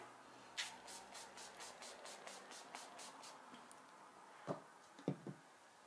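A rapid series of short aerosol bursts from a dewy-finish makeup setting spray, about a dozen even pumps in quick rhythm, close and soft, followed by a few small clicks and taps.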